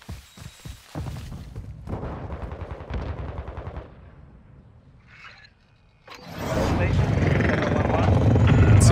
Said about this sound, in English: I do have the chopper gunner.